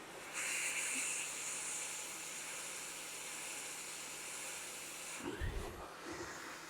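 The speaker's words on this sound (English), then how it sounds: "hot air gun set to about 350 degrees" A hot air gun set to about 350 degrees blows a steady, close hiss during desoldering of a chip, then a few muffled bumps and handling noises near the end.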